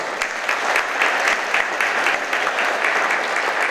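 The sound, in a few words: applause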